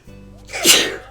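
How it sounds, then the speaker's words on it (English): A single loud, close sneeze with a sharp burst after a brief inhale, alone and without talk. "I always sneeze twice"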